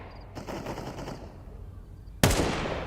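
Desert Eagle pistol shots ring out in a Counter-Strike esports match, a quick run of sharp reports followed by one louder, closer blast, with faint background noise underneath.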